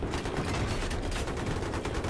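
Rapid, continuous gunfire crackles in a Battlefield 3 multiplayer match as a dense burst of automatic shots at moderate volume, with no pauses.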